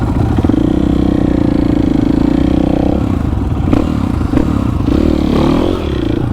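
Supermoto motorcycles ride past with a continuous, loud engine drone, joined by bursts of clattering and scraping, and no talking is heard.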